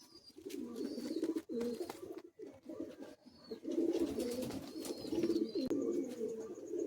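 Madrasi pigeons coo repeatedly in low, rolling bursts with short pauses between, fairly close and faint overall, with a few higher chirps from other birds in the background.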